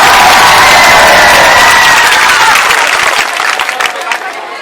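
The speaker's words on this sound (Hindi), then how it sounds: "एक बार जोरदार ताली बजाइए।" A crowd at a Hindi poetry gathering breaks into loud applause with some cheering, dense clapping that swells and then thins out toward the end.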